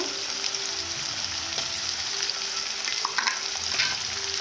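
Ginger and garlic fry with meat and onions in a pan for a home-cooked thali, making a soft steady sizzle with occasional light stirring clicks up close.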